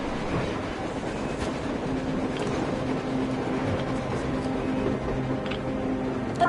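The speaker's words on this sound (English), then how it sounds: "A train! A damn train on the surface!" A train running on the surface in a video game, a steady close rumble with faint rhythmic rail clatter and metallic creaks, continuous and even in loudness throughout, with no voices.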